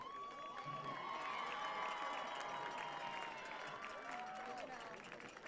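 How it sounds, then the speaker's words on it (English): A stadium crowd at a Southern Virginia University football game gives a big round of applause, a dense continuous roar of clapping and cheering that holds steady at moderate loudness the whole time. "One more big round of applause"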